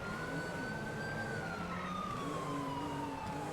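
A police siren wails steadily in a video game, its pitch sliding slowly up and then down over a constant rumble of engine and road noise.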